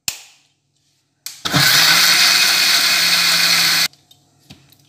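A short click, a pause, then a kitchen mixer grinder whirs loudly grinding Oreo cake batter for about two and a half seconds before cutting off, followed by faint clatter.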